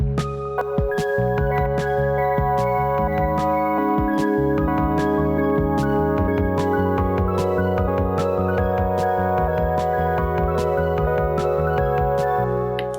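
Melody played back from an OP-1 tape track with a fourth-interval harmony layered in at 133% speed, dense and continuous synth tones stacked in parallel, loud and steady for the whole stretch with no voices.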